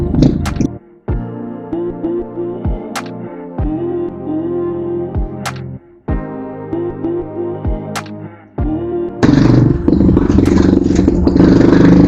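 A motocross motorcycle on a trail, engine revving in loud bursts broken by sharp cuts and clattering knocks, then a rougher, noisier stretch at the end.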